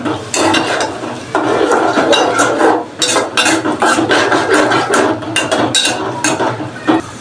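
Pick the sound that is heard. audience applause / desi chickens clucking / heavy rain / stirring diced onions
stirring diced onions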